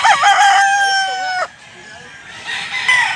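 A two-year-old Kanawayon Grey gamecock with green legs lets out one strong, close crow lasting over a second, then breaks off into quieter yard sounds and faint background voices.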